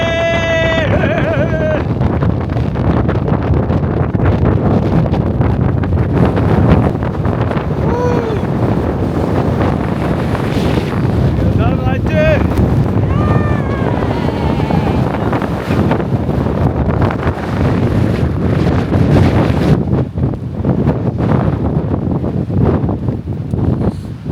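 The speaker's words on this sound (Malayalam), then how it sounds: "കാറ്റ്" Strong wind roars and buffets the microphone continuously, loud and close throughout, with faint voices now and then beneath the gusts, on the summit of Agasthyarkoodam mountain in Kerala.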